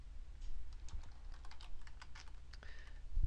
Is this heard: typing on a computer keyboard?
yes